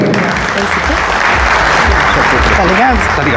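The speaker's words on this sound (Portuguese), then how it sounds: "A salva de palmas, Joana." A crowd at a technology seminar breaks into loud, sustained applause to welcome a speaker to the stage, the clapping dense and close throughout, with voices cheering and talking over it.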